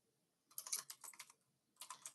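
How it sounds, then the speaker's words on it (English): Clacky computer keyboard typing, a quick run of sharp, close keystrokes, then a short pause and a second burst, with no talking. "My keyboard's really clacky."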